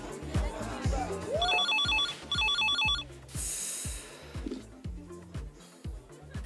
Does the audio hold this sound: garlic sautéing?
no